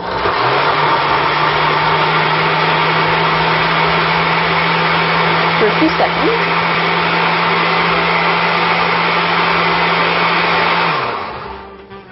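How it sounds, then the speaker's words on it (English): A kitchen blender pulps a mixture of paper and water, whirring as a loud steady motor hum for about eleven seconds before cutting off and winding down, with a few brief words spoken over it. "you're going to use it to pulp in your blender"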